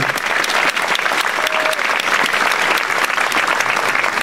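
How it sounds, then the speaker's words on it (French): Loud, dense audience applause fills a municipal New Year's ceremony hall in Nilvange as a local resident named Nicole is honoured, a steady continuous roar of many hands clapping throughout. "Mesdames, Messieurs, je vous demande d'applaudir chaleureusement l'engagement de Nicole pour notre ville."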